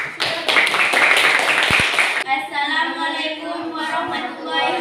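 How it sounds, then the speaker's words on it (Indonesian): A classroom group gives a short round of clapping for a selected student group during a teaching practice session, a couple of seconds of quick, close claps before a speaker starts talking. "kita beri aplaus untuk kelompok yang terpilih"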